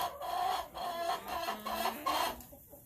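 A young backyard rooster named Kazoo clucks in a run of short, close, throaty calls with brief gaps, ending in a higher note, no voices over it.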